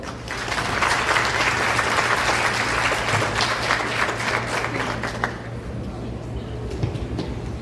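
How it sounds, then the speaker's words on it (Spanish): An audience applauds a speaker at a lecture on the environmental impact of mining, a loud, sustained burst of clapping that thins out and fades toward the end, with a low steady hum underneath. "Un fuerte aplauso, por favor."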